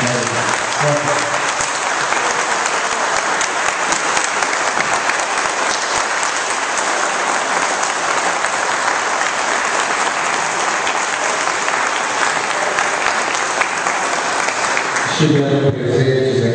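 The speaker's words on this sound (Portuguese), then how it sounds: "Eu queria que vocês dessem forte aplauso a toda essa equipe" Audience at an evening event gives the house team a strong, sustained round of applause, dense loud clapping that continues steadily for about fifteen seconds before a voice begins speaking.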